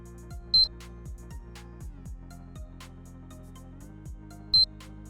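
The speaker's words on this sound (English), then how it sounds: "when 2 quick beeps chime at you" A PS3 console sounds short, high beeps when its power button is held, heard as two brief chimes a few seconds apart over a quiet background with soft clicks.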